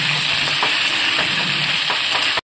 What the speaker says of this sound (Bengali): 2 থেকে 3 মিনিট খুব ভালো করে তেলের সাথে ভেজে নিয়ে